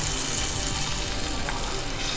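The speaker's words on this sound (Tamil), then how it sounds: "நம்ம எடுத்து வச்சுருக்க புளி தண்ணியை இதில் ஊற்றிடலாம்" Tamarind water hits a hot pan of sautéed ingredients for South Indian pepper curry (milagu kuzhambu), giving a steady, loud, close sizzle with watery hiss throughout, no voices.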